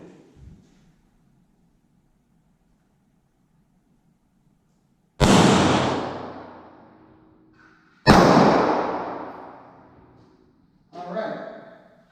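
Three sharp, loud 9mm pistol shots are fired into a ballistic gel block covered with clothing. Each crack decays over a couple of seconds, and the third is softer and shorter.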